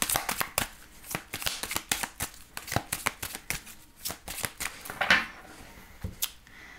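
A deck of tarot cards being shuffled and cut, with fast rhythmic riffling and flicking, crisp card slaps close up, continuing steadily with no speech.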